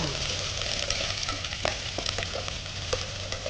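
Four small shallots or pearl onions, sliced, sizzle and fry in hot oil with salt while being stirred in a pan for a chicken dish, a steady close crackle with occasional scraping clicks of the spoon.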